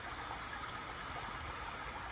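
Steady, faint rush of water flowing from a jet in an outdoor pool and a bubbler in an attached spa, a continuous hiss-like burble heard from some distance with no talking.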